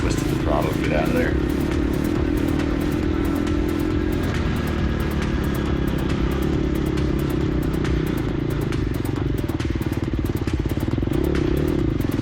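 Gas Gas EX250F dirt bike engine on a harescramble singletrack race, revving loud and close under throttle with a continuous buzzing roar, rattling clatter from rough choppy ground and occasional thumps beneath it.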